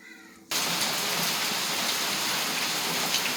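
Steady heavy rain pours down after a brief quieter moment, a dense, even hiss of drops hitting surfaces close by, with no voices.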